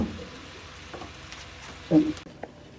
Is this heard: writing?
no